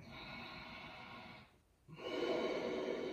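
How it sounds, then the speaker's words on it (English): Slow yoga breathing during an Ashtanga practice, a long audible breath tapering into a brief pause before the next strong inhale or exhale rushes in, close and fairly quiet. "focus on the sound of your breath."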